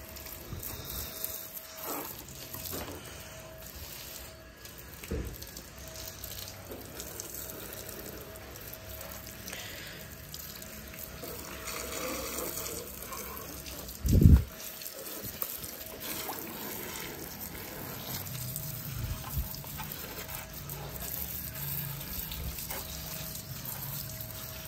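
Water runs steadily from a tap or hose while a Yamaha Aerox scooter is washed, a continuous splashing wash with one brief louder knock midway and no talking.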